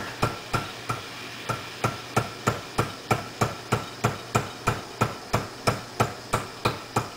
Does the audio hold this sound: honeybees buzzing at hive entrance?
no